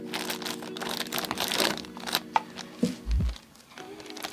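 Plastic bag holding the frame and body sprue of a ZIL Bychok truck scale model kit crinkles and rustles close up, with scattered crackles and a soft low thump near the end.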